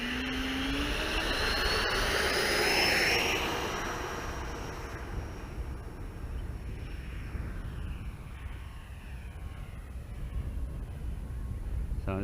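MiG-17 Fresco 90mm Avios model jet landing, its ducted fan whining loudly up close at first, then the rushing engine tone fading and settling into a lower, steadier hum as it slows.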